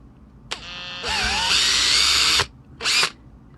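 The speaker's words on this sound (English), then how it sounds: "And now I've increased the bit size to drill our" Power drill boring a 5mm hole into a Commodore 64 plastic case after a pilot hole: a short whir, then a loud, sustained high-pitched grinding spin lasting over a second, followed by a brief final burst, with no talking.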